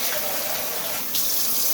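Tap water runs steadily into a bowl of rice being rinsed, a constant close, bright splashing rush with a slight change in tone partway through.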